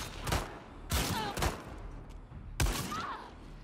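Gunfire in the video game The Last of Us Part 2: three sharp, loud shots spaced roughly a second apart, each with a short ringing tail, over low background ambience.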